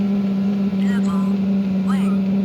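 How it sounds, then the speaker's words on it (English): A 5-8 kW diesel air heater runs with a steady, loud droning hum and a low mechanical tone, while faint rising whistles come and go over it and a voice speaks nearby. "So let's try turning the heater down."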